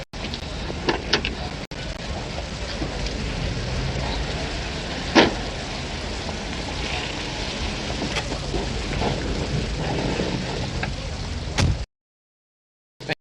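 Steady rain falls outdoors beside a car, a dense, continuous patter close by with a few sharper splashes and knocks, then it cuts off abruptly near the end.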